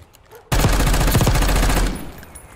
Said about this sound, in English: Rapid fire, XM4.